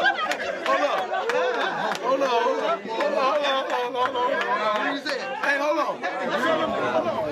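A crowd at a Southern Rap League rap battle chatters, laughs and shouts in a dense, continuous hubbub, close and lively, with overlapping voices throughout.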